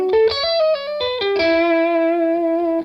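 A distorted electric guitar plays a fast bebop jazz lick, quick stepping notes resolving into a long sustained tone with a chorus-like shimmer, played alone.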